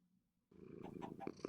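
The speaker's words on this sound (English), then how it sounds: "Cat starts to purr." A cat purrs close by in a steady, continuous low rumble that starts abruptly after a quiet moment and carries on with slight rhythmic swells.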